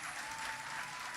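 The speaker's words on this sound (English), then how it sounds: "Let's give a rousing applause for the dancers and performers" Graduation ceremony audience applauding the dancers and performers, a dense, steady wash of many hands clapping in a large hall, continuous and fairly distant, with no voices over it.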